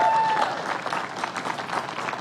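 A large high school graduation audience applauds steadily, a dense wash of clapping that holds at an even level.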